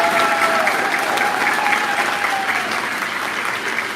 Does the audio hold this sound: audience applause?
yes